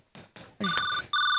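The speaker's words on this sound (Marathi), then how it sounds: "माझा फोन आहे, मी माझं बघेन." A mobile phone ringtone starts up in a Marathi home comedy scene after a few short thuds, then rings loudly and steadily with bright, repeating electronic tones.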